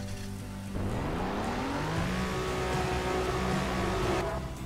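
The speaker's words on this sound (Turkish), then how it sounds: "Sound efekte arabanın sesini değiştirebilirsiniz." Car engine sound in Garry's Mod revving up from idle, a loud continuous engine drone rising steadily in pitch, then holding high with slight wavering.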